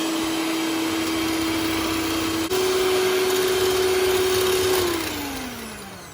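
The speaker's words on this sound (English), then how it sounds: "Now we're going to turn it on to 2. And we're going to whisk it." An electric mixer whisks chocolate whipped topping, a loud steady motor whine that shifts up a notch partway through, then winds down as it is switched off.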